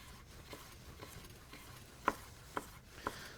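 A knife chops kohlrabi on a cutting board with three sharp, distinct knocks about half a second apart near the end, following softer, faint cutting taps. The sounds are close and clear, and no one talks.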